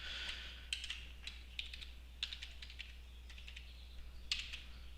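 Password being typed on a computer keyboard, quiet irregular clicks of separate keystrokes in short bursts with pauses, alone with no voices.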